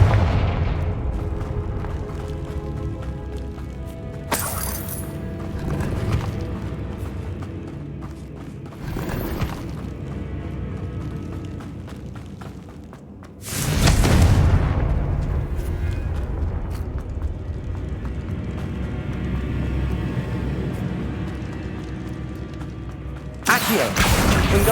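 A Confringo blasting curse explodes in Hogwarts Legacy, a sharp burst followed by a heavy rumbling blast, with several further impacts and booms over ongoing game ambience and spoken voices.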